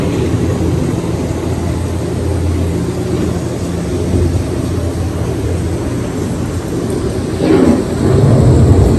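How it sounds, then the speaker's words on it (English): Thunder from an approaching storm rolls as a loud, continuous low rumble that swells further near the end, with no voices present. "The approaching storm may seem violent and destructive to us"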